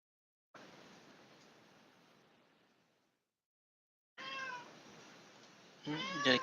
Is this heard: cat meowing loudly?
yes